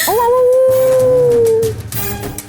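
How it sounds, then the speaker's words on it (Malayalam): A dog lets out a long, rising howl that holds steady and then fades, with other noise around it. "കൂടെ കുറെ പട്ടികളുടെ ഓരിയും"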